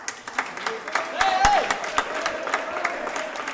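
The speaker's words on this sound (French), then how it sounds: "Vous entendez, hein, les acclamations pour Néo, hein, qui vient de passer la ligne" Crowd cheering and clapping at a Super Mario Kart championship final, moderate applause with scattered claps under ongoing voices and a rising electronic game tone.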